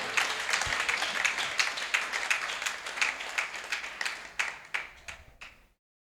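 A church congregation at a Pentecostal service applauding, with brisk, fairly close clapping that runs steadily, thins into scattered claps and then stops abruptly.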